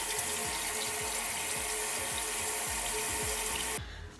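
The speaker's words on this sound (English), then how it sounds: "right now I'm about to crank the shower up on hot" A hot shower runs in a bathroom with a steady, close rush of spraying water and faint rhythmic pulsing beneath, then cuts off sharply near the end.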